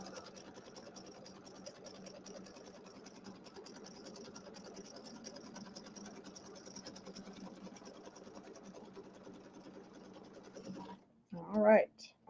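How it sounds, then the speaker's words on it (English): A sewing machine runs a tack down stitch on a Halloween settee pillow, humming steadily and fairly softly for a long stretch before a short, louder mechanical burst at the end. "So we're going to do the tack down stitch."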